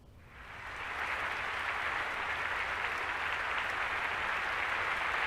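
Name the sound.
applause in a visual novel game scene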